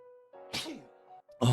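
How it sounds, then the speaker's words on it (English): A man sneezes once, a sharp burst that closes a short stretch of quiet humming and breath, the sneeze loud and close to the microphone. "I'm gonna sneeze."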